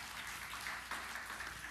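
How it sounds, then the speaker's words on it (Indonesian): Church congregation clapping for Jesus during a sermon, a short, fairly faint burst of steady mixed applause. "Tepuk tangan yang meriah bagi Tuhan Yesus."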